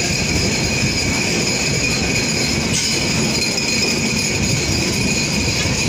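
Rupsha Express passenger train running on rails, a continuous close rumble of carriages with a faint wheel squeal throughout and no voices.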